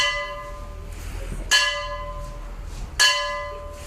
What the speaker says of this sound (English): the death bell is rung.